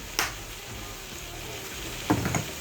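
Soy sauce and sugar are stirred into a simmering sauce, a soft steady sizzle with two brief clinks of a utensil against the pan, close and without talk.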